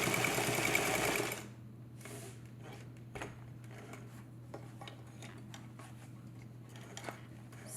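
A sewing machine double-tacks a seam on a fabric zipper pouch, running fast and loud for about a second before stopping, then light ticks and small handling clatter follow under a steady low hum.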